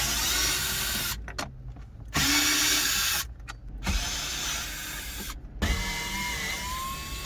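A power tool backs out the 7mm bolts holding a car's glove box in bursts of whirring drill noise, broken by short silent pauses between bolts, with faint ratcheting clicks.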